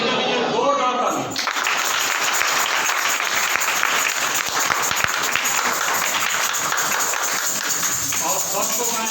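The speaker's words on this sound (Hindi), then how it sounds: "यीशु मसीह के लिए जोरदार ताली।" Vigorous applause swells from a church congregation after a short spoken line, dense hand clapping running steadily for several seconds before a voice returns near the end.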